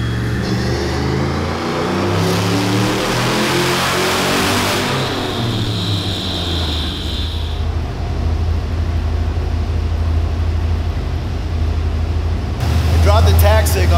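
A turbocharged LS engine on a dyno pull with a new HD7582 turbo, revving hard with a rising harmonic whine that climbs, then drops away as the throttle lifts, ending in a brief burst of noise. Voices are faintly present.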